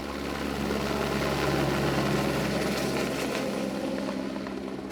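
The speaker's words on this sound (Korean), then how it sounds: "헬기를 동원해 대량의 살충제를 살포해 보지만" A helicopter spraying insecticide over the Florida Keys drones on steadily, its engine and rotor hum loud and unbroken throughout.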